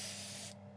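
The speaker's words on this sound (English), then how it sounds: "I'm going to spray the underframe now." Spray paint hissing onto a model train underframe during weathering, a steady close burst lasting about half a second before cutting off, leaving a low hum behind.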